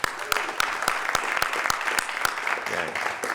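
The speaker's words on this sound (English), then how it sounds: "Can we give another round of applause to our great principal," A school audience gives a round of applause for the principal at a Dallas ISD press conference, with loud, sharp, fairly close clapping that holds steady for just over three seconds, joined by a few faint voices.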